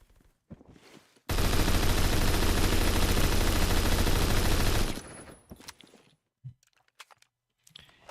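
Loud, rapid automatic gunfire in the Phantom Forces video game, one continuous burst lasting several seconds, then cutting off into quieter scattered clicks and clatter.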